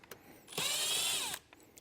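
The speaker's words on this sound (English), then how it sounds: "come back through with a 3/8 and a 1/8 inch drill bit and drill out those holes" An electric drill with a 1/8 inch bit whines at high speed in one short burst of under a second, drilling a pilot hole, with faint taps and handling noise before and after.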